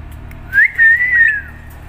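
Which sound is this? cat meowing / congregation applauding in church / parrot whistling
parrot whistling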